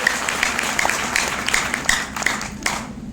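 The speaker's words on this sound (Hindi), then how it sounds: "एक बार और तालियां बजा लीजिए दम लगा के।" A seminar audience in Jamui, Bihar claps together in a brisk, regular rhythm, with a steady run of close, bright beats over a general crowd clatter.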